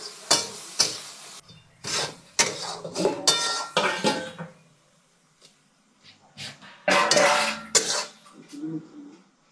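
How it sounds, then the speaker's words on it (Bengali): A spatula clatters and scrapes against a pan while palm sprout chutney with sugarcane jaggery is stirred and fried, in irregular bursts of metallic clinks separated by quiet pauses. "দেখুন, এটা নাড়তে থাকলাম, একটু ফ্রাই করা হলো।"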